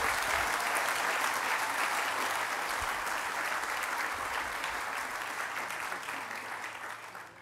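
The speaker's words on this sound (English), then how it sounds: "Let's give them a round of applause, please." An outdoor crowd at the ribbon cutting for a track and field center claps in sustained applause, dense and steady at first, then slowly thinning and fading toward the end.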